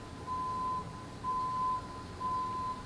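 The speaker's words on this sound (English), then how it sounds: "And a nice little beeping in the background too." A faint electronic tone beeps three times in steady, evenly spaced pulses over a quiet background hum.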